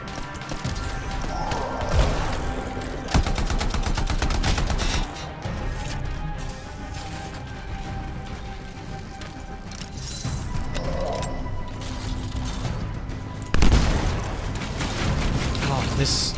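Gunfire in the video game Anthem, bursts of rapid shots and heavy impacts over a dense, noisy battle mix, with a sharp loud blast near the end and a person talking throughout.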